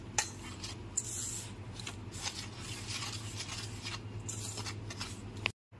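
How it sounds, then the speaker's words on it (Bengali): Malpua batter ingredients, including fennel seeds and sugar, being mixed in a bowl, with a steady scraping and clinking of a spoon against the bowl, close and continuous, ending in a brief silence. "এইবার সমস্ত উপকরণগুলোকে খুব ভালো করে মিশিয়ে নিতে হবে।"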